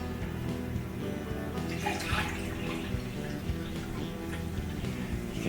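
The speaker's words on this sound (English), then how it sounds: "Let me just pour some into a glass." Seltzer water poured into a glass, a steady close splashing and bubbling stream with a broad hiss that swells in the middle and carries on to the end, with no talking.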